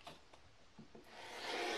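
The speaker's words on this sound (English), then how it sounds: "trim through all layers, the top layer, the batting, and the backing." A quilt trimmer cuts through all the layers of a quilt (pieced top, batting and backing): a few soft scrapes and rubs, then a steady close rasping swell as the blade draws along the edge.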